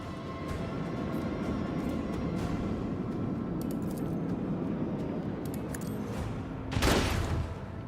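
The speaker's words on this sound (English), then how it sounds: "So I think I want to move them here and detonate them." Torpedoes detonating in the space battle game Warhammer 40000 Rogue Trader, with a dense rumbling barrage of blasts building to one loud sharp explosion near the end.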